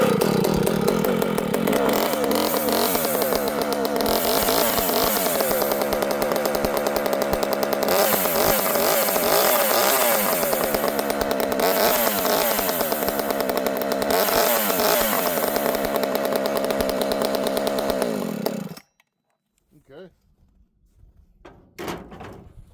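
A ported P42 chainsaw starts and runs steadily at a loud, close idle and rev for about nineteen seconds, then cuts off abruptly, leaving faint shop noises.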